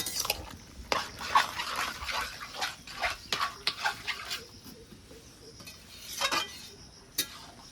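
Pumpkin greens and lentil dumplings being stirred and mashed in a pot: repeated wet squelching, scraping and utensil knocks in an uneven rhythm, close and without talk.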